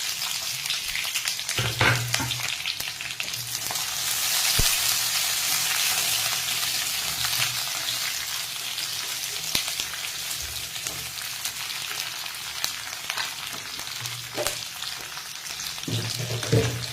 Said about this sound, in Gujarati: હવે આપણે આ કેપ્સિકમ અને જે ડુંગળી લીધી તેને એની અંદર એડ કરી દઈશું